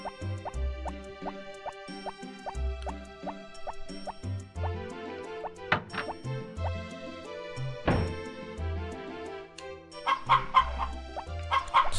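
Chickens clucking in the farming video game Harvest Moon: Back to Nature, repeated synthesized cluck sounds over a bouncy looping game melody, fairly loud and close.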